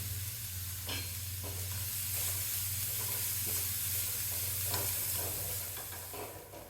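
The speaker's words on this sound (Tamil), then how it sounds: "1/2 கப் அளவுக்கு தேங்காயும் சேர்த்து தேங்காய் கொஞ்சம் செவந்து வர்ற வரைக்கும் வறுக்கணும்." Spices and half a cup of grated coconut dry-roast in a pan with a soft steady sizzle, close and quiet, punctuated by several scraping stirs and a low hum beneath.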